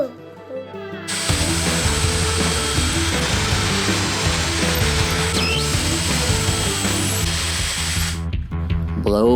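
A power drill drives screws into a heavy wooden tabletop during a table build, a loud continuous whirring burst of several seconds that starts abruptly and cuts off sharply, close by.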